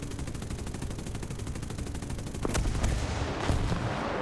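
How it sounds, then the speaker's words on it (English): Machine guns on a P-63 C-5 fighter in War Thunder fire as a steady, rapid stream of shots, followed by a few heavier bursts near the end. No one speaks over it. "Running low on MG ammo though"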